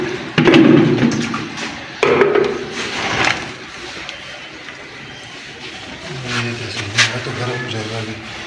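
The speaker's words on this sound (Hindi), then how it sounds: "कितनी तेज़ी से पानी तो बाहर निकल रहा है" Water gushes out fast at a new house under construction, a loud rushing burst that comes in two surges before easing into a quieter flow under voices.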